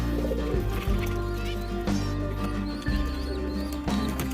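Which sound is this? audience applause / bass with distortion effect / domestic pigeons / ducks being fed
domestic pigeons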